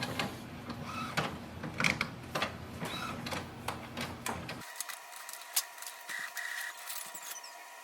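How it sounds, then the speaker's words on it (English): An Epson WF3820 inkjet printer runs its print head cleaning cycle with rapid mechanical clicks and ticks, a steady motor hum underneath and a softer whirring stretch in the second half. "This is the manual print head cleaning. It will flush some ink and your printer will start to work normal."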